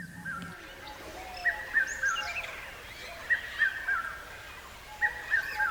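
A rufous treepie calls in the Bibhutibhushan forest, with repeated harsh, ringing phrases arriving in spaced bursts at moderate distance over a quiet woodland background.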